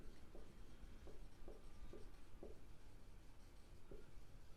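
Pen or marker writing numbers by hand on paper while working out a histogram scale in a statistics lesson, giving a series of short scratchy strokes at an uneven rhythm, faint and close, with no voices.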